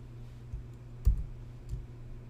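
A few soft clicks, like keys being pressed on a keyboard, with one sharper tap in the middle over a low steady hum.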